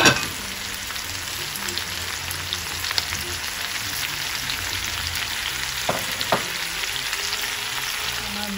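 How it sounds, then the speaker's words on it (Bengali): Onions sizzle steadily in butter and oil for beresta, a dense continuous frying hiss close by with a few stirring scrapes and no talking. "এখানে আমি বেরেস্তাটা করব এই বাটার আর তেলটুকুর সাথে"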